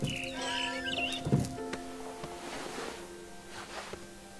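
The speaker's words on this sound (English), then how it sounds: "I heard chirping outside my window. It was a barn swallow going back to her nest." Short barn swallow chirps and tweets from the video game What Remains of Edith Finch ring out over a steady backdrop of tonal hums and soft ambient noise, with no talking.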